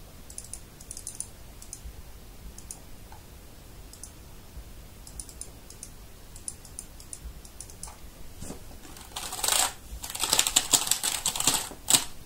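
Keys are struck on a keyboard during a Raspberry Pi first run, starting as sparse faint clicks and building into a rapid, louder burst of clattering taps near the end.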